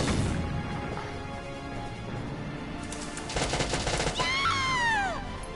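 A grenade explodes in the tactical video game Valkyria Chronicles Remaster: a constant low battle rumble, then a loud, crackling burst of debris and impact noise with a short whistling tone as it fades.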